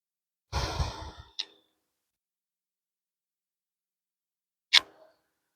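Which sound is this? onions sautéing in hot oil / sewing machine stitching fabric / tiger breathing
tiger breathing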